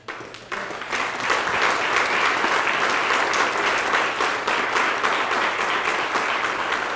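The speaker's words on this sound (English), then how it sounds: "I think we should give him one more round of applause" An audience at a salon event breaks into a round of applause that swells quickly after a soft start, then holds as dense, steady clapping.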